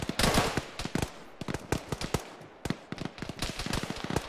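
Rapid bursts of rifle and machine-gun fire from a military video game firefight at an intermittent crossing, dense cracking shots in irregular volleys, loud and close, with no talk.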